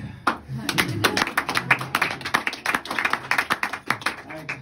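Scattered, uneven clapping from a group of people, rising and falling in bursts, with murmuring voices in the background.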